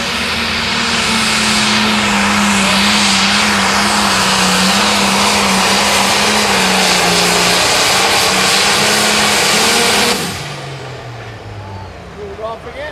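Fearless Ford 9500 Limited Pro Stock pulling tractor roaring down the track at a Mound City, Missouri pull, a loud, sustained engine howl that drops away abruptly near the end, with an announcer talking over it.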